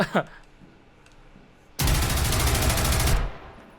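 Sustained burst of automatic gunfire in the tactical shooter Rainbow Six, erupting loud and dense for about a second and a half after a quiet stretch with a brief sharp pop near the start.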